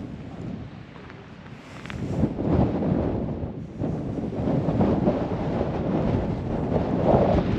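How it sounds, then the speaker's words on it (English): Wind blows hard outdoors at an old rock house near a mine, gusting and buffeting the microphone with a roaring rumble that swells and eases. "the wind is really starting to come up again."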